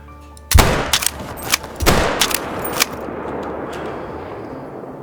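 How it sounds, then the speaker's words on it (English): A varminter rifle fires at a red fox at Emerald Coast in a hunting video game. One loud, sharp crack rings out, followed by several further booming reports and echoing thumps. Tail-off fades into steady ambient noise, with no talk. "I'm gonna have to shoot the 9 first"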